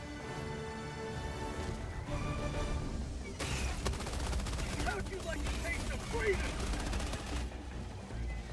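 Machine gun fire in the video game Helldivers 2, dense bursts of rapid shots over a busy, noisy game soundscape with music and effects, continuous and moderately loud.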